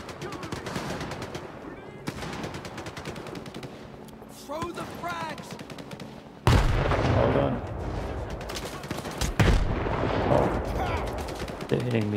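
Gunfire in the PC game Stalker 2: Heart of Chornobyl, with scattered single shots and short bursts at moderate loudness, growing heavier partway through. Voices talk over it.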